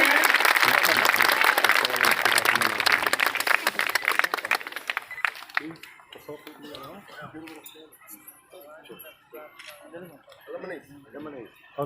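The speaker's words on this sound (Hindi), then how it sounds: "तालियों से सम्मान करें।" Audience applause at an Indian public event honouring a local MLA, dense clapping for about five seconds, then fading into murmuring voices and scattered clinks.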